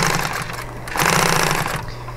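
An industrial sewing machine, a DNU241H or DNU1541S walking-foot model used for upholstery, runs steadily with a droning motor hum and needle clatter that briefly pauses, then picks up louder and holds close by.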